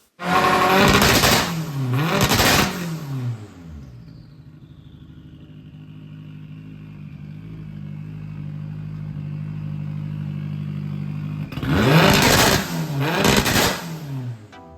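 A VW Golf Mk5 with a 20vt engine revs hard in short bursts during a two-step test, loud and close; two sharp rev pulses open the clip, a steady idle follows, and a second burst of revs comes near the end.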